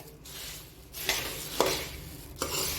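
Dry puffed rice is stirred through a tempering in a pan for a quick snack, giving a rustling, scraping sound with a few sharper scrapes of the spoon against the pan.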